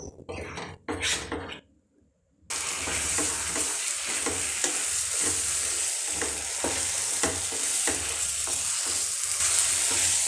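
Banana blossom chutney simmers down in oil, a steady broadband sizzle and bubbling that runs nearly continuously after a brief quiet gap near the start, with occasional stirring scrapes and no talking.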